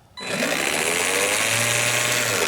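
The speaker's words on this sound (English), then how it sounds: "it's plastic gears going against plastic gears, and you know, you got a motor that's wide open" An RC-converted Power Wheels Ford Bronco electric motor runs wide open, its plastic gears grinding against plastic gears. After a brief quiet start, a loud, steady whirring grind holds on throughout.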